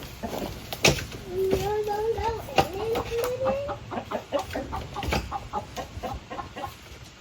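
Chickens in a coop clucking and calling, with one bird's rising squawks standing out close by, over scuffling movement and a person talking in between.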